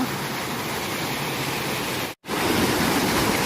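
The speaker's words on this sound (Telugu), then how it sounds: "చూడండి ఫ్రెండ్స్ ఇవే వాటర్ ఫాల్స్" Water sheets over flat stone at Ananthagiri waterfall in a dense, even rush close by, continuous apart from a split-second gap before the flow noise resumes at the same strength.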